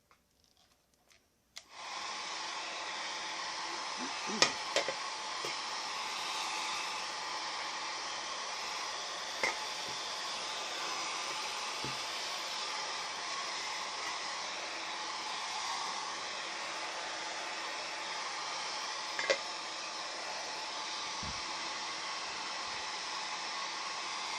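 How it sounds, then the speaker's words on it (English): A hair dryer switches on and blows with a steady, even whoosh close by, with a few faint clicks and knocks over the drone. "So let's speed up this drying process with a hair dryer."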